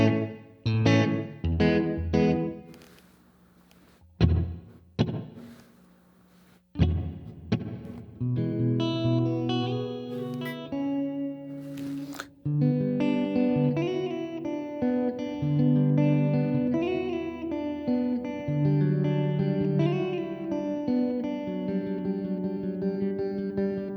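An electric guitar plays through a Fender Hammertone reverb pedal in its darker damp mode. Several short plucked chords ring out and fade with trailing reverb, followed by a longer run of sustained, echoing notes, loud and clean with no talking.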